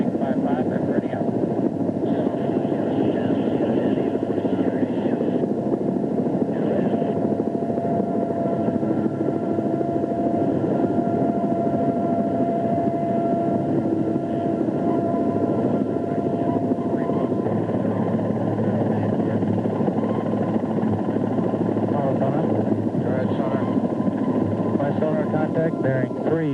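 A military helicopter hovers over the sea, a steady, loud rotor and engine drone filling the whole stretch with no pauses, while radio voices talk over it.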